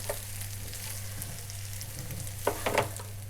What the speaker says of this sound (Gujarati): ભાતને મસાલા સાથે મિક્સ કરી લઈશું।